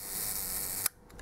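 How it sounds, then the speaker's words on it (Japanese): Rolleiflex 3.5F twin-lens camera with a Xenotar 75mm f/3.5 lens, its leaf shutter set to 1 second: one soft, quiet click close by, cutting through a steady background hiss. "シャッター音の非常に静かな、このローライフレックス特有のシャッターになってますね"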